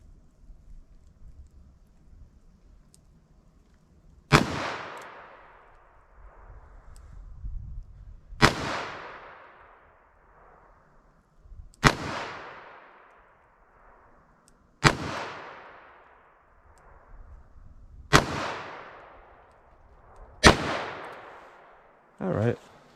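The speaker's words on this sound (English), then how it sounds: "First shot's 22 Magnum," Six loud, sharp gunshots from a Ruger LCRX 3-inch .22 Magnum revolver fired outdoors at 7 yards, evenly spaced a few seconds apart, each cracking and ringing out over faint wind noise.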